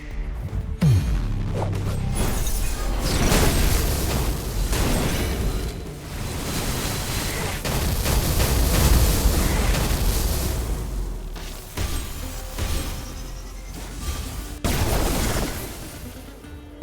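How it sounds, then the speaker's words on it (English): A fully charged blast from the Winter's Redena weapon in a Roblox combat game, a loud sustained explosive roar with crackling bursts and a few sharp hits toward the end. "A fully charged blast from the Winter's Redena is completely undefendable"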